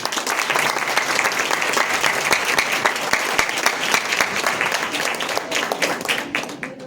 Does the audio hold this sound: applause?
yes